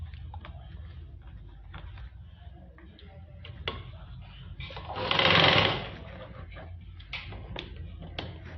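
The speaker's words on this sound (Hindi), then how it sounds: "अब हम इसके नीचे की सिलाई लगाएंगे, पैंचे से आसन ले जाते हुए, आसन से होते हुए दूसरे पैंचे तक।" A sewing machine runs steadily, stitching the lower hem of a pair of palazzo pants, with a light mechanical ticking throughout and a louder, faster burst of stitching midway. The machine is close and no one speaks.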